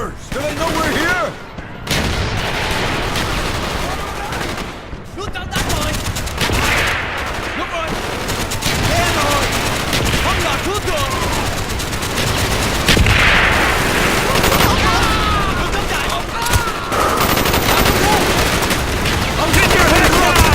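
Sustained battle din in Call of Duty Black Ops at the Battle of Khe Sanh: mortar blasts and rattling gunfire crackle continuously through the whole stretch, loud and dense, with shouted voices mixed into the fighting.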